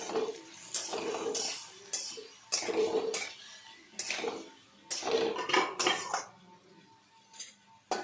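Lid going onto a cooking pan of chili-spiced chorchori, with several close metallic clanks and scrapes of cookware against the pan, loud and irregular, between quieter pauses.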